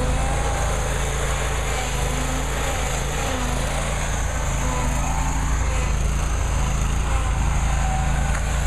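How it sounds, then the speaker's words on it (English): Lawn mower engine running, a continuous loud buzzing drone at steady pitch that fills the whole stretch, close by and with no pauses. "Turn on your mower."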